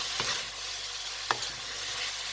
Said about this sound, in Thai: ผัดแห้งๆเพราะเรากินกับข้าวต้มค่ะ